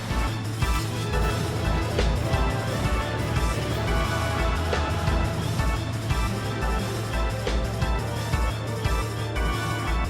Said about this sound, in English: FF8's boss music, as a bit of a reminder here, sounds like this.